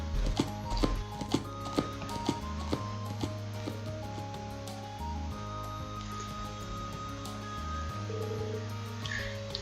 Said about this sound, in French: C'est un cheval bien tranquille.